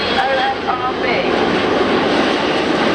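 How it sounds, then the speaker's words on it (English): An RAF Chinook helicopter passes in landing configuration at an airshow, making a loud, steady broadband roar of rotor and engine noise that fills the whole clip. "the aircraft's going to come past us, and this is in landing configuration, just above landing speed"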